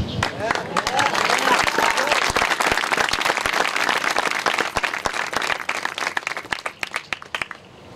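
A church congregation claps during a service, a dense, sustained burst of many hands that thins into scattered, irregular claps toward the end, with a voice speaking over it.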